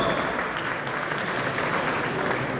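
An audience at a Teachers Day ceremony in Kasur applauds, a dense, even wash of clapping from a large crowd that holds steady without pause.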